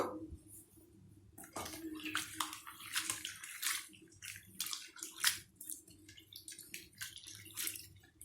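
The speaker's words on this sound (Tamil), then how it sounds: "இப்போ அவளுக்கு தண்ணி ஊற்றி 2 வாட்டி கழிஞ்சிக்கலாம்." Water sloshes and splashes in a bowl in uneven bursts as rice flakes are swirled and rinsed, close and fairly quiet.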